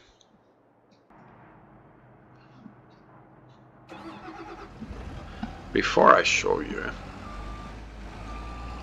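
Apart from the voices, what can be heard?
truck starting and reversing in Farming Simulator 22 video game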